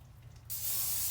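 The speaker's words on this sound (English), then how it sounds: "I'm gonna spray the George Foreman with" Cooking spray bursts onto a George Foreman grill in one steady, close hiss that starts abruptly halfway through and continues to the end, following a quiet low hum, with no talking.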